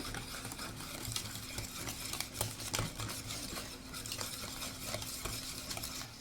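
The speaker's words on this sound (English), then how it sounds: "So I'm going to mix this all together." Blondie batter with baking soda, baking powder, cinnamon and vanilla extract being mixed in a bowl, a soft continuous scraping and stirring with light utensil clinks, fairly quiet and close, no voices.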